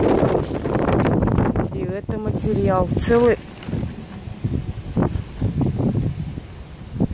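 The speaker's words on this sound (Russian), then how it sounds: "Вы знаете, очень сильно ветер дует." Strong gusty wind buffets the microphone outdoors at a junk dump, a steady rushing roar throughout while someone talks over it.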